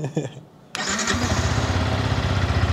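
A Yamaha R15 motorcycle engine cranks and catches after a brief quiet pause, settling straight into a steady, loud idle with a throbbing low rumble, close by, following a short spoken phrase.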